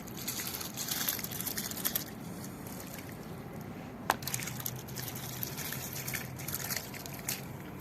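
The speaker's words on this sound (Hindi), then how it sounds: "आप देख सकते हैं हमने चावल जो है पानी में शामिल कर दिए हैं" Soaked, drained rice is poured into a pot of water for zarda sweet rice, giving a continuous liquid trickle and splashing with a brief sharper splash midway, with no speech.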